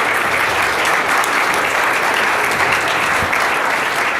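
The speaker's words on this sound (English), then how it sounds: "A round of applause for all our sponsors." A room of attendees at a startup tech meetup claps for the event sponsors, a dense, loud and continuous burst of applause sustained evenly for several seconds with no talk over it.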